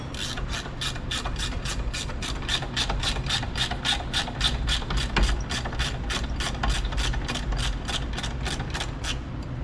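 A ratcheting wrench turns strut bolts on a 2016 Subaru Forester, giving a fast, even run of clicks that repeats steadily up close, with no voices.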